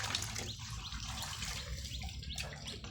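A close, steady pour of water from a jug splashes continuously for a few seconds, alone without voices.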